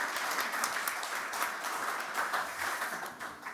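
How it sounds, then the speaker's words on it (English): An audience applauds at a smartphone launch press conference, a dense wash of clapping held steadily across the moment with no voices on top. "Give please a big applause to them."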